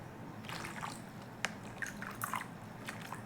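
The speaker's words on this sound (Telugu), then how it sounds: "2 గ్లాసులలో వాటర్ పోయడం జరుగుతుంది." Water is poured into two glasses, a faint, close trickle with small drips and splashes over a quiet room hum, and no talk.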